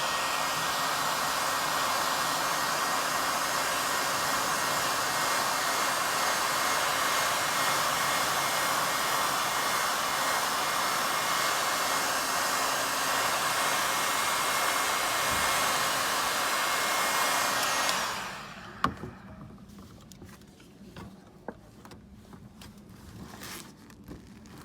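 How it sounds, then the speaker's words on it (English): A heat gun blows a loud, steady roaring hiss at close range on a VW Transporter side loading door panel for most of the stretch, then cuts off, leaving faint clicks and handling noises. "Heat gun."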